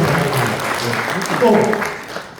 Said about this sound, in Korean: 그냥 큰 박수